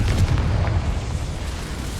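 A Confringo blasting spell explodes in the PC game Hogwarts Legacy, a deep rumbling boom with crackling bursts that fills two seconds at close range and high volume, with no talk.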